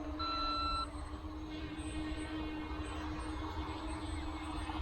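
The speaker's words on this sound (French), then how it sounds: "là ça vient de biper, donc je n'ai pas pu voir, mais à mon avis c'est la radiocommande qui se reconnecte" Short steady electronic beeps from a drone radio controller reconnecting, a pair of tones near the start over a constant broadband hum and whine, with faint repeating high tones later.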